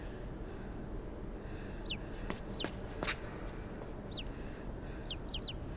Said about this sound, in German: Kommt, meine Vögelchen.